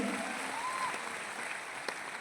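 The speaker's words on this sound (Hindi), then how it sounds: "ताली बजाइए एक बार हमारे सर जी के लिए।" An audience claps in steady, sustained applause, a dense even patter of many hands at moderate distance, with a faint tone and a brief knock near the end.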